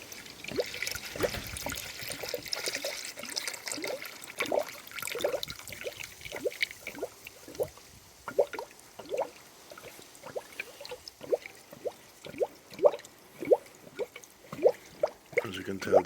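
Premixed coolant is poured into a Toyota Celica Mk6 1.8 cooling system, a trickling pour followed by a long run of regular glugging drips and gurgles, close up and fairly quiet.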